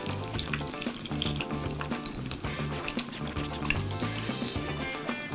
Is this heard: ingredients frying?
yes